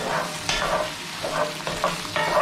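Eggs frying in a generous amount of oil in a pan, a steady crackling sizzle with several sharper bursts of spatter, close and fairly loud.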